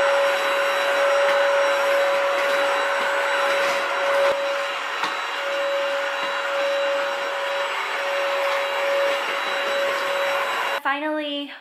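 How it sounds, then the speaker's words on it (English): A vacuum cleaner drones loudly and steadily with a high whine, running nearly the whole time before cutting off, followed by a brief voice. "I need to vacuum."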